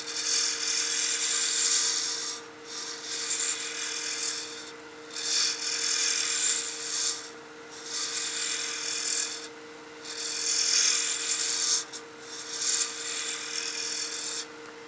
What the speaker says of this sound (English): We'll keep roughing this out with a spindle roughing gouge